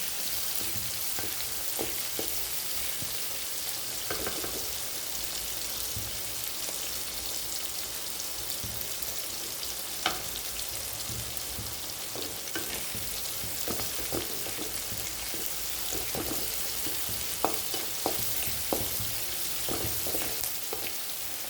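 White semolina (rava) is sautéed in a pan, giving a steady, even frying sizzle throughout with scattered light clicks and taps from stirring, and no voices.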